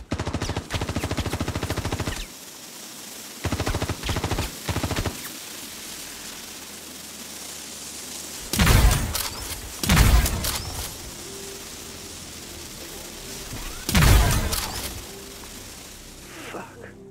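An AI enemy fires a shotgun in a video game, several loud, booming blasts spaced a few seconds apart, close and heavy, set among bursts of rapid gunfire.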